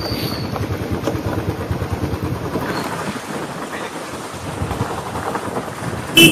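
Heavy monsoon rain falls on the Kas plateau near Satara in thick forest. It makes a steady, dense hiss of downpour with low rumbling underneath and no voices.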